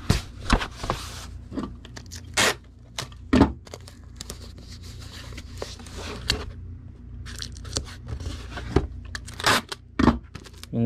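Packing tape torn and pressed down to seal a Gemini shipping mailer for an eBay comic sale, a run of sharp ripping and crinkling bursts spread across the clip with no one talking.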